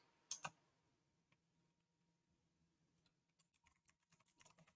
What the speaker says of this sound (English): I got a new keyboard and it's like a typewriter keyboard